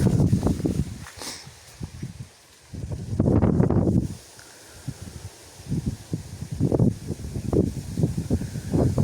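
Gusty wind blows outdoors across a wheat field, buffeting the microphone in loud rumbling bursts that rise and fall with quieter gaps between them.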